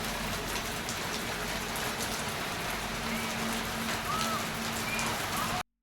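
Steady rain pours down without pause, a dense even hiss of drops hitting surfaces all around, nearby and continuous.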